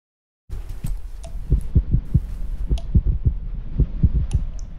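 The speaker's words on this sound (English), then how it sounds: "I hear heartbeats." A heavy, thudding heartbeat in the horror game From the Darkness pulses steadily and close, its deep beats repeating in pairs over a low hum.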